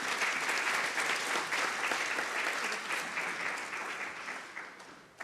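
Audience at a public-private business forum applauds its working group speakers, a dense, steady wash of many hands clapping that holds for several seconds before tapering off near the end.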